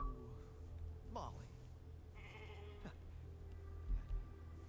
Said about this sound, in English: I get a fucking pet sheep?